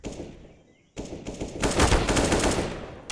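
A Negev light machine gun fires in a competitive team shooter match, one short burst followed by a sustained, dense rattle of rapid shots, loud and close.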